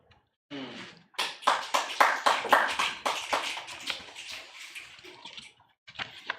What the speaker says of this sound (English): I love y'all's snaps and claps.